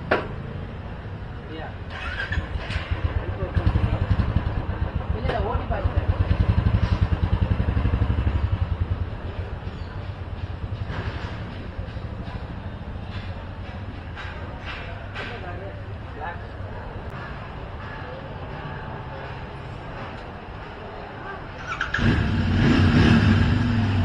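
A Royal Enfield Interceptor 650 motorcycle engine idles and revs nearby at delivery, its low rumble steady throughout, with people talking over it and a louder burst near the end.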